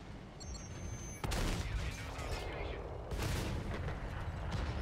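Tank cannon and machine-gun fire from a Tiger II battle in a video game, a dense, booming barrage of overlapping shots that swells sharply after a quieter start and keeps rumbling throughout.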